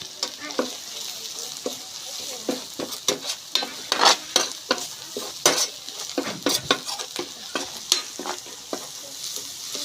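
Red chili powder, coriander-cumin powder and turmeric are fried in oil for paneer bhurji while a spoon stirs and scrapes the pan, giving a constant sizzle broken by repeated clinks and scrapes.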